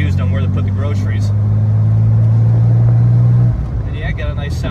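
Exhaust from the rear engine of a 1964 Chevrolet Corvair makes a loud, smooth, steady low burble that cuts off near the end, with a voice talking over it.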